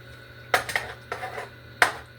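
A spoon clinks and scrapes against a metal pot on a medium-high stove while chicken broccoli casserole with egg noodles cooks, giving four or five sharp close knocks over a low steady hum.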